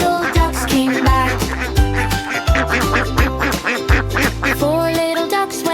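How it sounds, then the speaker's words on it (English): A mother duck's quacking in a Five Little Ducks nursery rhyme, sounding as repeated quacks over steady, bouncy sung-along music with a bass line throughout. "Mother duck called quack, quack, quack"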